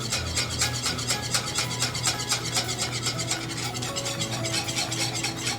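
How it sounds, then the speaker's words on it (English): Custard mixture being whisked constantly in a saucepan with the heat off for a puff pastry tart, a steady close scraping and stirring rasp of the whisk against the pan, continuous and fairly loud throughout. "As you do this, you're going to whisk constantly"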